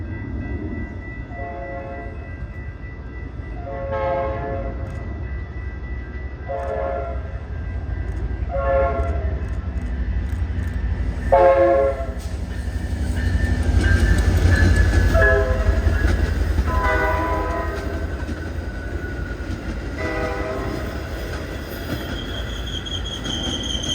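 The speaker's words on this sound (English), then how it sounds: "Here's an outbound Metro commuter train heading west towards Elgin with a former Amtrak Surfliner F59 PHI" A Metra commuter train hauled by a former Amtrak Surfliner F59PHI locomotive sounds a series of loud, repeated horn blasts as it rolls west past a crossing, its engine rumble swelling and then easing underneath.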